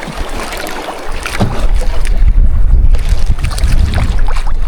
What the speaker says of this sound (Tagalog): Magalaw yung bangka.